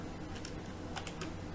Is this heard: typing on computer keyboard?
yes